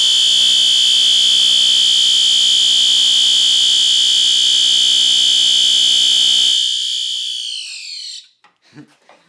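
A System Sensor SpectrAlert Advance alarm sounds a loud, steady continuous tone, close and alone, holding for several seconds before cutting off and leaving brief faint noises.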